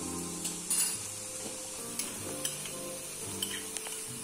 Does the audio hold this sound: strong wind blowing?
no